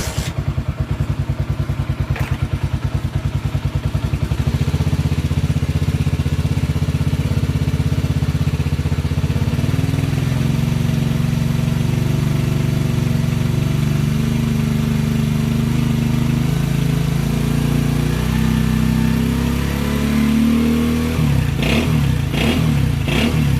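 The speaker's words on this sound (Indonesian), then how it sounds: "Suara khas dari knalpot Honda Win yang kita chrome." A restored Honda Win 100 motorcycle with a chromed exhaust idles with a steady, loud thumping putter, the engine note rising and wavering as it is revved toward the end, heard close up with no talk.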